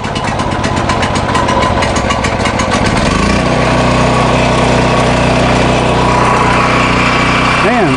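Small portable generator engine, just serviced with fresh oil, cranks with rapid clattering pulls for about three seconds, then catches and settles into a loud, steady running hum.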